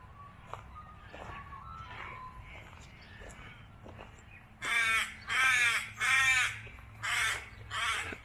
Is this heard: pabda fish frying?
no